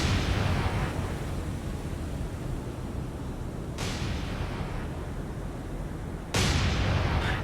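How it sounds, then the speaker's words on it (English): Naval guns fire in the War on the Sea game: a heavy blast rolling over a loud, continuous low rumble, with sharp bursts landing about midway and again near the end. "Fire your guns."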